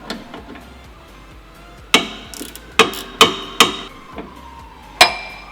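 Sharp metallic clanks and taps ring out near the sway bar end link on a Lexus ISF, about six distinct hits spaced irregularly over a quiet background with faint mechanical rattling.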